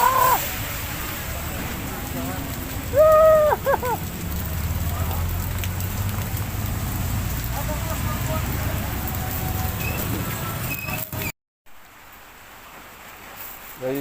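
Rain falling steadily in a Philippine market setting, a continuous hiss of drops on surfaces with brief voices and a short bird-like chirp early, cutting off abruptly near the end.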